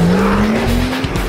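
A car brakes hard again and again on ceramic brakes glowing white hot, its engine note rising steadily beneath a loud, continuous tire squeal and road roar.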